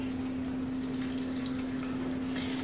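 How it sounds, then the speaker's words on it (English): Water draining off a pot of cooked macaroni noodles, a steady close rush with a constant hum underneath, with no talk. "You drain the water off your elbow noodles, rigatoni, whatever kind of macaroni noodles you get."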